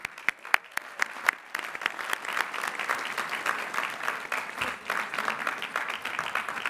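Hearty applause from a large commencement audience honoring master's degree recipients at Lehigh University, a few sharp individual claps at first swelling into dense, sustained clapping.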